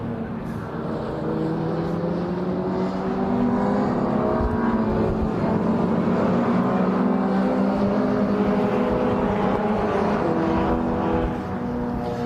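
A burgundy MG race car with a white stripe drives past at Brands Hatch, its engine drone rising and holding steady for several seconds before fading, heard from trackside.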